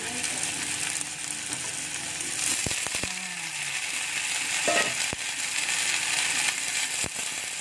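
Mushrooms frying in a pan for a spicy sweet soy sauce dish, a continuous close sizzle broken by several sharp clinks and scrapes of stirring, with no talking.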